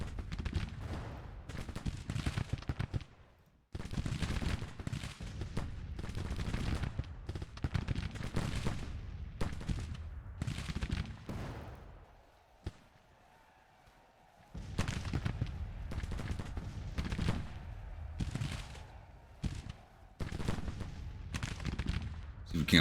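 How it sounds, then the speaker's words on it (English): Civil War musket volleys and artillery fire in the strategy game Grand Tactician boom and crackle continuously in dense rolling bursts, with a brief lull near the middle before the barrage resumes just as loud. "Come on, boys, keep advancing, keep firing."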